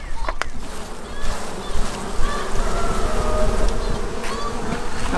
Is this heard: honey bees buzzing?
yes